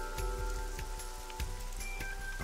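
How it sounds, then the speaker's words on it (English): Steady rain falls throughout in the video game AI: The Somnium Files, a continuous hiss with scattered drip-like taps, alone with no talk and held at a fairly constant level. "This rain is depressing."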